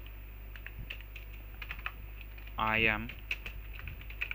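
Keys clatter in short bursts on a computer keyboard as Android ViewBinding code is typed, soft and steady beneath someone speaking Hindi, with one brief louder spoken moment partway through.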